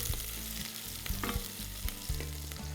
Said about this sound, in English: you can see we're really sizzling away there, which is perfect